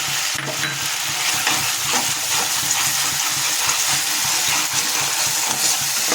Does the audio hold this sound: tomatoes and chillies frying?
yes